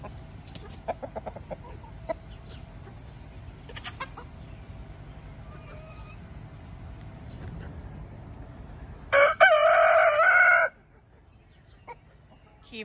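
Loud squawking and crowing from a rooster erupts suddenly for a second or two, amid scattered bird calls and faint outdoor background noise.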